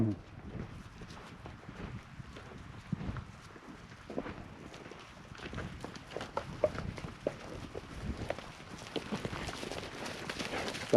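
Herd of cattle driven in by working dogs, a scattered, irregular patter of hooves approaching over wind noise, moderately faint and distant, with some breathy buffeting from the microphone.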